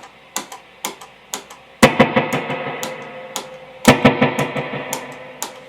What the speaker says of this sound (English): So an eighth note triplet delay sounds like this.